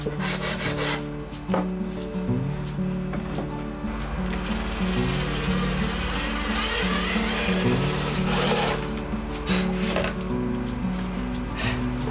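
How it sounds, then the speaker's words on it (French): Wood being shaped by hand with a plane and a sanding block during assembly, giving steady rubbing and scraping strokes that continue throughout at close range with no talking. "Le tout bien sec est assemblé et mis en forme au rabot et au ponçoir."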